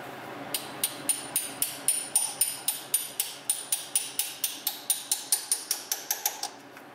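Hammer blows on a center punch driving a dowel pin into a BMW 5L40E transmission, about twenty sharp metallic taps in a quick, even rhythm, close and clear with no talking.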